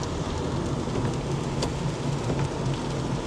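Steady rain falls outdoors in a continuous, even wash of patter, with scattered drops tapping nearby and no voices.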